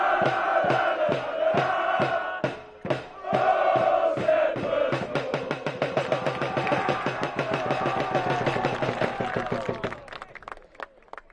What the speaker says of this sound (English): The crowd again.